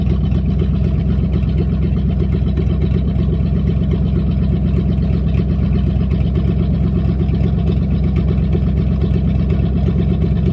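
Steady, loud engine drone of a Chevy K10 truck on the move, a constant low rumble holding level throughout with no voices.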